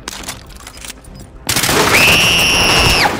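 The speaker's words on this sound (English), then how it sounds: "Gunshots! From the east! From the east!" Loud, close bursts of rapid gunfire in a Call of Duty match, a sharp rattle that jumps in volume midway and carries a high ringing tone over the shots.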